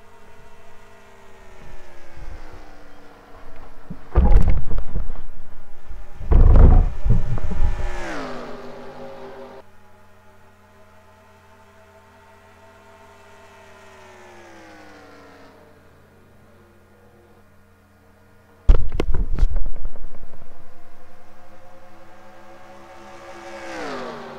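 A race car in a stock car racing video game rolls down pit lane alone, its engine holding a steady drone with harmonic tones that slowly fall, and two loud revving bursts near the start and another late on.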